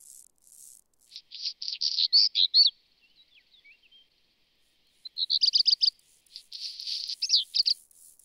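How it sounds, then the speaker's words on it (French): A small bird sings rapid high trilling phrases in spring courtship song on the Aubrac plateau, pausing between bursts, clear and close against a quiet background. "Chez les oiseaux, le chant devient plus subtil pour séduire de nouvelles compagnes."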